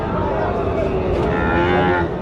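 A single long, loud moo from a five-to-six-month-old calf at a cattle market stretches on close by, steady and droning, with faint bustle behind it.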